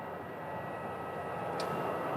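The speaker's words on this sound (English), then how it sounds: "This is an Airbus A320." An American Airlines Airbus A320, about 23 years old and built in 2000, at Phoenix Sky Harbor, giving off a steady, moderately distant broadband jet roar that holds even throughout.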